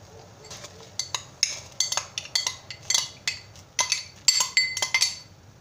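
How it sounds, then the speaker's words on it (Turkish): Washed bulgur, about a cup, tipped into a pot of boiling water amid a busy run of clinks and knocks of utensils against the pot, close and fairly loud, with no talk. "Ben burada kaynayan suyun içine bulgurumu ekleyeceğim."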